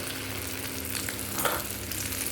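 Okra dropped into hot oil in a kadai, giving a steady, close sizzle with a brief louder crackle in the middle. No one speaks.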